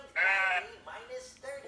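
A human voice imitates a sheep's bleat: a loud, wavering 'baa' followed by two shorter, softer bleats, close to the mic, with no real animal.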